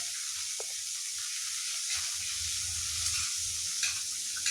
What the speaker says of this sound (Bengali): এবার বাকি তেলে ফোড়ন দিয়ে দেবো হাফ চামচ কালো জিরে এবং 2টো শুকনো লঙ্কা।